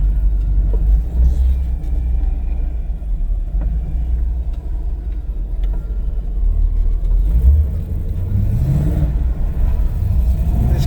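A powerful pickup truck nicknamed Godzilla drives along, its engine a steady deep rumble with rising revs toward the end, heard from inside the cab with no talk.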